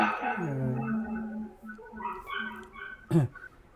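A dog gives a series of whining, yipping vocalizations at close range, ending in a sharp louder bark-like yelp.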